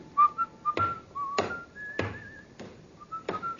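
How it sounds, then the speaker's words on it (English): A man whistles a lilting, wavering tune at moderate distance, broken by several sharp thumps and clatters, with no talk over it. "that fella there, whistling"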